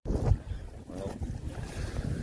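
Wind rushing steadily past the microphone while a canoe sails at sea off Plymouth Sound, a continuous blustery roar with splashing water, close and fairly loud throughout.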